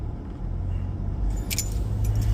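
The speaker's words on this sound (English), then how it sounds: "Check out these keys they gave us." A bunch of large new work keys jingles and clinks against each other, a cluster of bright metallic rattles near the middle, over a steady low car engine rumble while heading to work.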